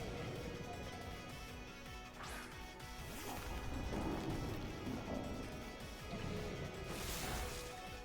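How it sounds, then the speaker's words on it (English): A Thunder Punch attack lands in the video game Pokemon Violet with a loud crashing, thudding impact and crackling electric noise, sustained and dense across the whole stretch, swelling in two bursts. "he's going to try to Thunder Punch."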